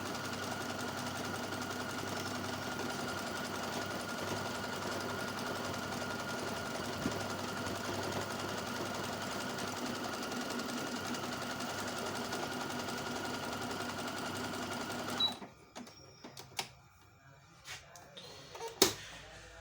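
A Brother Chariot 3000 sewing machine stitches patterns in a long, steady, close mechanical whir that stops abruptly, followed by scattered clicks and handling knocks.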